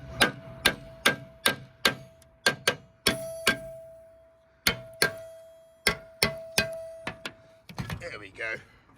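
A hammer strikes a glue-stuck fitting on a wind turbine again and again in sharp metallic blows, about a dozen steady hits at close range, followed by a short rattle as the part shifts.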